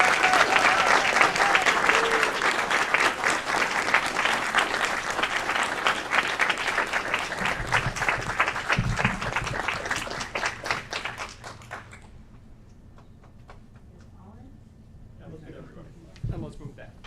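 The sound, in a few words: round of applause at city council meeting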